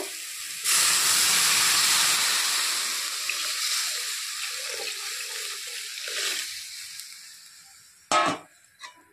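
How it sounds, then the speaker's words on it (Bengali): Broth hits a hot pan of cooking greens with a loud, sustained hiss that slowly fades into a gentle simmering sizzle, followed by a couple of brief utensil clanks at the end. "এখন আমি এর মধ্যে দিয়ে দিব ঝোল। তো এখন ঝোল দিয়ে দেব।"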